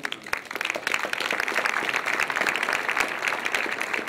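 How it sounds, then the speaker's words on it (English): Warm applause from a conference audience welcoming a speaker at the Ancestral Health Symposium, dense steady clapping heard from within the hall, lasting about four seconds. "Please welcome, warm round of applause, Staffan Lindeberg."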